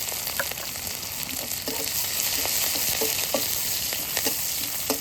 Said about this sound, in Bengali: জিরেটা ভেজে নিয়েছি, এখন কাঁচামরিচ কুচি দিয়ে দিচ্ছি।